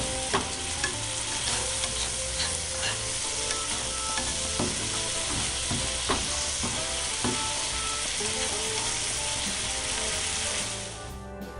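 Burrito meat cooking in a pan on a stove turned down to medium-low, giving a steady close sizzle with occasional stirring scrapes and clicks throughout, fading out at the end.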